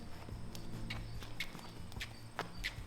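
Horse hooves step slowly backward during a lunging session, a few soft irregular clip-clops on the ground, near and fairly quiet under low background rumble.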